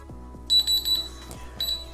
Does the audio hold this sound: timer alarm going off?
yes